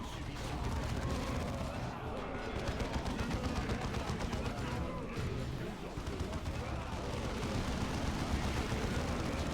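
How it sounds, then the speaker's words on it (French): Grenade blasts and rapid gunfire from the real-time strategy game Dawn of War 2, a dense, continuous battle din of overlapping shots and explosions filling the whole stretch with no clear pauses. "Je vais leur remettre une grenade là-haut, là, parce qu'il y a plein de mecs au cap et tout, je vais les faire sauter."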